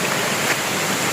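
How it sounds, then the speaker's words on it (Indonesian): A waterfall rushing steadily, a dense unbroken roar of falling water heard up close and fairly loud, with no voices over it. "ke air terjun ini"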